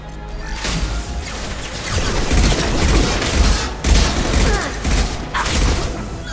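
Loud gunfire and booming impacts from the game Mass Effect, with bursts of shots and heavy thuds in a continuous dense battle mix, and a faint voice now and then.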